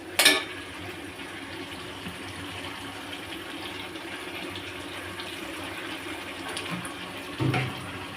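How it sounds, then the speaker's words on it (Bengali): Small amount of water poured into a pot of chicken rezala masala, a soft continuous trickling pour close by with a couple of brief clanks at the start and near the end, no talk. "আমি এইটার মধ্যে অল্প করে একটু জল দিয়ে দিলাম"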